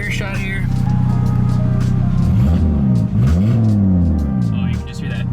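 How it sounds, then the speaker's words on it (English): A 600-horsepower turbocharged Audi RS3 engine revs loudly and close, its deep drone sweeping up and down through several rising and falling pulls, with a faint high turbo whine above the roar. "you can just hear that turbo spool"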